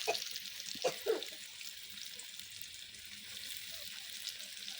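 Food fries in a pan outdoors at a family picnic, giving a soft, steady sizzle at low volume with a couple of brief splashy stirs near the start.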